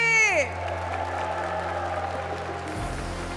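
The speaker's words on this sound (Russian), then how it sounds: "И приглашаем вас в зал под бурные аплодисменты!" Audience applause in a hall at the ceremonial opening of a wedding festival, a steady wash of clapping that runs on after a brief tone and fades near the end.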